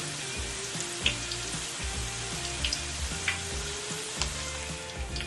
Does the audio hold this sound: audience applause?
no